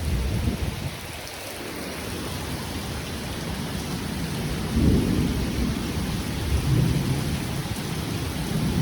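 A heavy thunderstorm near water, with steady loud rain and hail hammering a surface and deep rolls of thunder building midway. No voices are heard.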